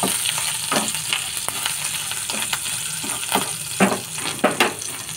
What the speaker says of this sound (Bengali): এই দেখো আমি ভেজে নিচ্ছি।